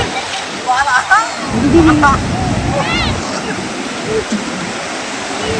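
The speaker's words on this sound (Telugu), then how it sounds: "చూడండి అలలు ఎలా వస్తున్నాయో" Sea waves wash in steadily at Mypadu beach near Nellore, a continuous surf rush under lively talk, with birds or voices chirping faintly on top.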